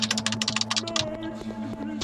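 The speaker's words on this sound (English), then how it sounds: "I hope you're enjoying this keyboard ASMR," Rapid clicking of a computer keyboard, dense close keystrokes that thin out after a second into scattered taps over a steady low electronic hum and faint game tones.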